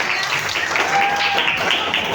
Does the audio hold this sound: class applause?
yes